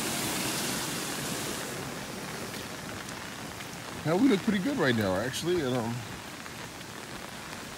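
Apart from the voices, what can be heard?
sustained rain falling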